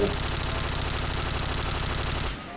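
Rapid macro-driven automatic fire from an AUG or Kriss rifle in the shooter game Point Blank, a dense, loud, unbroken burst of shots lasting about two seconds before cutting off abruptly.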